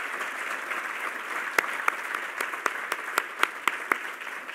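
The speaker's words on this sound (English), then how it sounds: "Let's give Alex Kipman our 2015 Innovation Hall of Fame inductee a very warm round of applause" An audience at an Innovation Hall of Fame induction ceremony breaks into a sustained round of applause, a dense wash of clapping with a few sharper individual claps standing out near the end.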